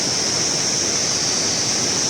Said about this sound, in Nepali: ओ पर हेरौँ कस्तो राम्रो झरना छ